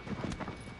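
Horse hooves clopping as a rider gallops in the video game Shadow of the Colossus, a few quick soft hoofbeats in a brief burst over a faint ambient bed.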